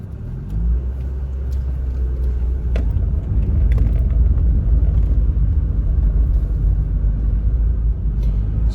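Steady engine and road rumble from inside a moving 1995 Ford Fiesta on a test drive, loud and continuous, with a few faint clicks and knocks over the drone.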